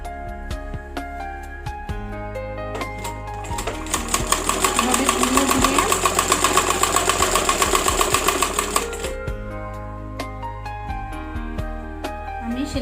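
A sewing machine stitches piping onto the neckline of a child's umbrella frock in short bursts, running steadily louder in a long central run before slowing to brief starts and stops, close and clear.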